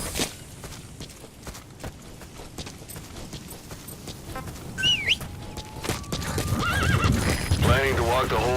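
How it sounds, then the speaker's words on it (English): A horse in the game Metal Gear Solid V: The Phantom Pain clip-clops steadily across open wilderness and then gives a loud, close neigh near the end, with birds chirping faintly and game music underneath. "Use your horse."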